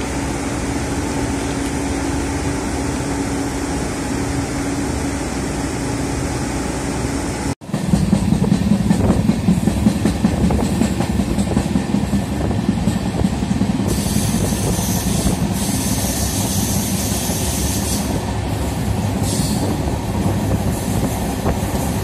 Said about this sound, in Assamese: এইখন এখন ট্ৰেইন চক